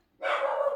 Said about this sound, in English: That is my dog yelling and telling the neighborhood that he hates anybody doing anything outside of their home